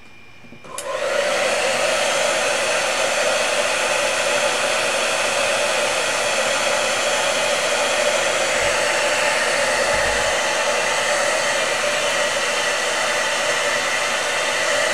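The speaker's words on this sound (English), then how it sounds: "Now I'm going to go ahead and get the blow dryer again. And we're going to hit this until it's absolutely dry." A hair dryer on a low heat setting blows over an acrylic jellyfish painting, starting with a click and then running as a loud, steady, unbroken whoosh throughout, with no voices.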